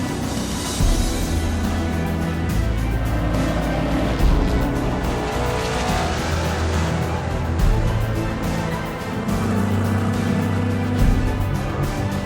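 A car drives with a steady low engine rumble and road roar, holding a constant, fairly loud level throughout with slight surges and no talk.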